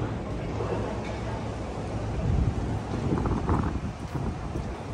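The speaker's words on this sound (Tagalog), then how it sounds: "Mahangin-hangin na makulimlim." Wind gusting outdoors in the city on an overcast day, a continuous rough rumble of buffeting across the microphone, swelling in the middle, with faint voices underneath.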